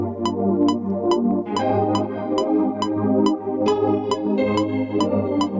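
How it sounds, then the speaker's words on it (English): A metronome click track plays back in Cubase at a steady, regular tick, about every half second. It sits over a sustained musical backing at moderate loudness, with no talk. "we can hear that our metronome is in time"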